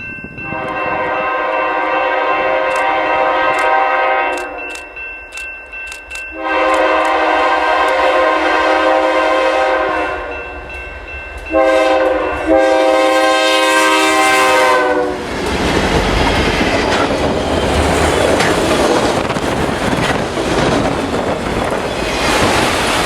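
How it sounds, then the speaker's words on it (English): A BNSF freight locomotive hauling a short autorack train sounds its horn in long, loud blasts, then rumbles past up close with rattling wheels and a rushing roar, in winter at Galesburg, Illinois. "We would start off with BNSF 5357 East moving a short autorack train."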